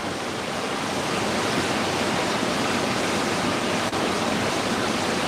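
A creek flows near a campfire, a dense, steady rush of water that fills the whole clip at an even, loud level with no pauses.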